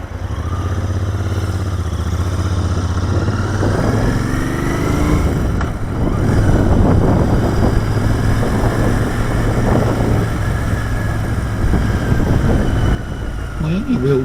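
A 2019 Royal Enfield Interceptor 650 motorcycle rumbles steadily and loudly while riding through traffic, a continuous engine drone with wind noise and someone talking over it.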